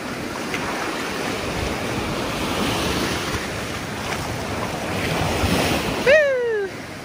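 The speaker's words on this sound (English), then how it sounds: "The waves are coming in." Ocean waves wash and break steadily on a beach with wind rumbling across the microphone; a brief bird-like chirp cuts in near the end.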